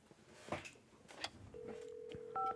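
Telephone dialing in the video game Hitchhiker: a few soft clicks and taps followed by a sustained steady tone and a couple of short higher dial beeps, quiet and close.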